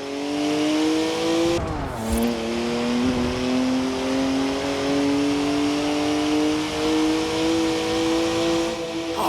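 A BMW 1M engine in Forza Horizon 4 drones loudly and steadily, with one abrupt gear change partway through and continuous rising revs.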